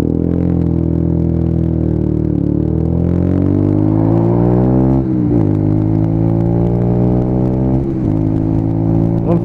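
A Honda CB125 motorcycle with a powerful aftermarket exhaust revs and accelerates hard on a test ride, its loud, close engine note climbing through the gears with brief dips at each shift.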